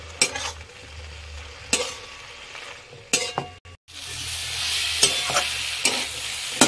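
Gourd greens fry with salt, turmeric, nigella, radhuni, cumin and chili paste, a close sizzle broken by several sharp scrapes and clinks of a spatula against the pan, with one brief silent gap and no talking.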